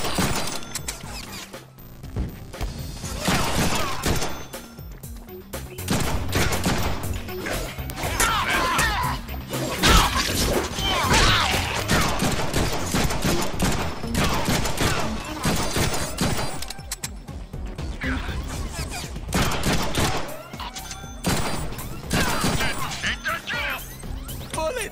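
Rapid gunfire and impact hits in the Deadpool video game on PS4, dense bursts of shots and smacks running almost continuously at close range with brief pauses, some game voice underneath.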